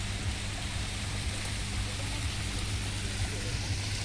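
Waterfall, a constant broadband rush of falling water filling the whole scene evenly, with a low steady hum beneath it and no talking.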